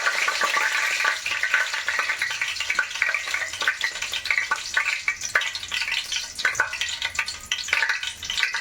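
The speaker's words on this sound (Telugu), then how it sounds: "ఫస్ట్ ఆఫ్ ఆల్ నేను బగారా ఆకేస్తున్నాను తాలింపులో" Bay leaf frying in hot oil for a tempering gives a steady, close sizzle throughout, broken by small clicks and scrapes of stirring, with no talking.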